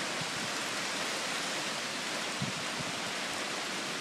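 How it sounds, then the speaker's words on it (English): Rain falling during Hurricane Sandy: a dense, steady broadband hiss of heavy rainfall with a few low thumps and gusts, constant and unbroken, with no voices. "I mean, it's still raining."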